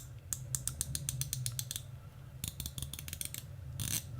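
The ceramic bezel of an Omega Seamaster Planet Ocean 42mm turns in quick runs of crisp, evenly spaced clicks, two bursts with a short pause between and a brief final flurry, close and quiet.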